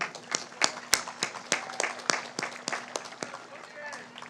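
Scattered clapping at a high school graduation ceremony as scholars are honoured, sparse individual claps arriving in an uneven rhythm rather than a full ovation.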